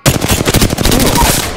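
Rapid bursts from a Mozambique shotgun in Apex Legends, a quick string of loud, punchy blasts close up, firing back to back for a moment with no voices over it.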